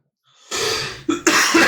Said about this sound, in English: As I cough and clear my throat.